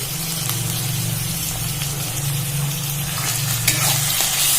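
Onion tempering with turmeric sizzles steadily in a pan while being stirred, a constant close frying hiss with a low hum underneath and a few faint scraping ticks near the end.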